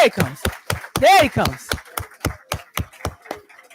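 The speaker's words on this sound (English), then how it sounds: "we give a rousing applause for the good brother for his presentation so much that he can hear it out front" Claps from an audience honouring a presenter at a talk. The claps are sharp and separate, coming in a quick, loose rhythm close by, with a brief vocal whoop partway through.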